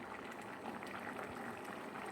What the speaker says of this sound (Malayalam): നന്നായി തിളച്ച് വരട്ടെ.